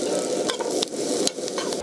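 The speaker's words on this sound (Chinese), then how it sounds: "再来炒个配菜" Side-dish vegetables stir-fried in a hot pan with black pepper and salt: a continuous close sizzle broken by repeated sharp scrapes and clatters of the utensil tossing the food.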